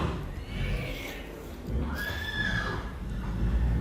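A horse whinnies loudly in long, rising neighs, with faint hoof clip-clop and ambient noise around it.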